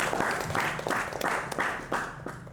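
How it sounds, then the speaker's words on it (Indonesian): Short burst of audience applause at a literary appreciation evening, fairly close clapping with a rhythmic pulse to it, lasting only a couple of seconds. "Oke, tepuk tangan."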